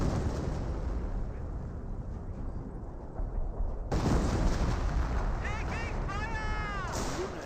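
A Company of Heroes artillery barrage rumbles as continuous loud explosions under battle noise, intensifying midway, while a voice speaks over it.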